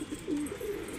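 Pigeons of a flying and fighting breed coo softly, a short low rolling call close by over faint background noise, with no talk.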